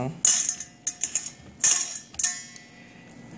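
Hot Brussels sprouts mixed in a pan, with several sharp metallic clanks and clinks of a utensil against the pan at an uneven pace.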